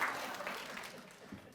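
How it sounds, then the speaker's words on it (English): Applause from a conference audience, a soft, dense wash of many hands clapping at a distance, steady and faint for a moment before fading slightly. "Let's give the middle ones a round of applause. Big round of applause."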